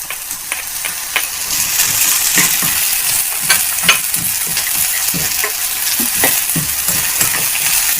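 Onions sauté in a hot pan with a loud, close, continuous sizzle, broken by frequent scrapes and clacks of stirring and the occasional sharp crackle.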